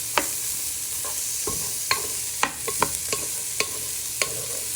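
Chorizo sizzles steadily in hot oil in a pan, while a spoon stirs it and scrapes the pan in sharp clicks spaced about half a second apart. The sound is close, and no one speaks.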